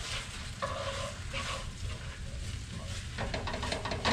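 Garlic and the white part of green onions sautéing in a pan, a soft, low-level sizzle with light stirring and scraping sounds, close but quiet.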